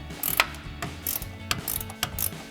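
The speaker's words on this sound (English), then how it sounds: "I've got an 18 millimeter ratcheting wrench that I'm going to use to remove this" An 18 mm ratcheting wrench clicks away at the upper ball joint nut on a Sierra 1500 front suspension, in close, rapid bursts of ratchet ticking repeated several times with short pauses and no talking.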